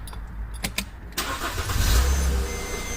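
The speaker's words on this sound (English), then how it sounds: "So we start the car up." A 2009 Mercedes-Benz R350 3.5L with a charging fault cranks with a few clicks and a starter whir, then catches and settles into a steady idle, close up.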